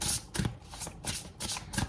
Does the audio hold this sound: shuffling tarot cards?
yes